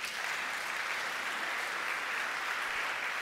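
A congregation applauding during a Sunday church service, a dense, even wash of clapping from many hands that holds steady throughout, heard alone without speech.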